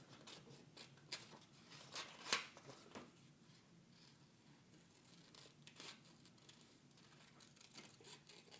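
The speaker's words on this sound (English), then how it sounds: "with a pair of scissors" Scissors cutting out a stamped paper jug shape for card making, quiet irregular snips and paper rustles, close but faint with no talk.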